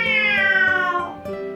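A human voice mimics a cat's meow at a lucky cat statue in AI: The Somnium Files, one drawn-out falling meow followed by a short second note, close and clear.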